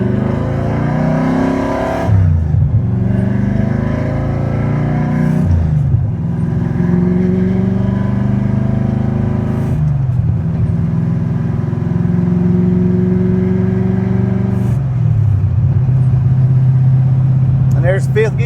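A manual car with a big cam cruises in fifth gear, its engine giving a loud, close, steady harmonic drone with a slightly uneven, lumpy edge, broken by a few brief dips and shifts in pitch.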